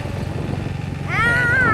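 A low rumbling engine idles, then a cat lets out a clear, rising-and-falling meow close by.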